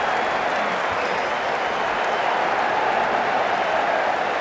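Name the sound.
cricket stadium crowd cheering a four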